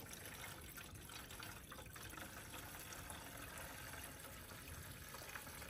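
Windshield washer fluid is poured into the reservoir of a Chevrolet Blazer, a faint, steady liquid trickle and glug heard close up, running continuously without talk.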